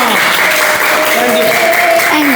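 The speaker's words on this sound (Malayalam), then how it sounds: "ഒരു കയ്യടി കൊടുക്കുക." An audience of students at a World Cup quiz event bursts into loud, sustained applause, a dense wash of clapping that continues throughout with voices faintly mixed in.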